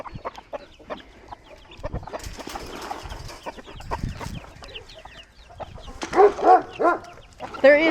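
Backyard chickens cluck in short, scattered bursts close by, mixed with rustling and handling noise, and the clucks grow louder and more excited toward the end.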